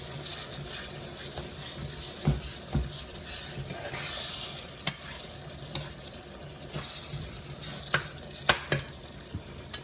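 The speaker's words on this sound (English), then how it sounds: "You're gonna saute it." An eggplant filling sautéing in a pan: a continuous close sizzle with frequent scraping and clicking stirs of the utensil against the pan, and no talking.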